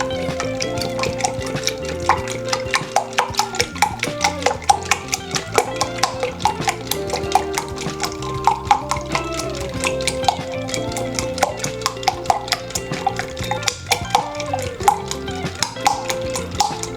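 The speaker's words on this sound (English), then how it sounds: "And I'm going to whisk it." Rapid, steady whisking of an egg mixture for bread pudding in a bowl, a continuous run of close, bright metallic taps and swishes with no talk.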